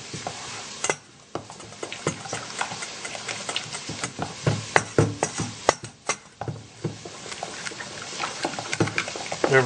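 Spaghetti carbonara being stirred together with cheese, egg and crispy bacon, giving repeated close clicks, scrapes and wet sloshing in an uneven rhythm, with a faint sizzle underneath and no talking.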